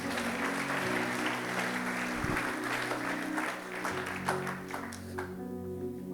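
A church congregation bursts into applause after a French sermon reading, with steady, full clapping from many hands over a low organ-like drone, fading toward the end.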